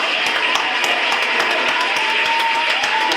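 Applause for a guest in a podcast studio: a dense, steady patter of hands clapping close by, sustained at a constant level throughout.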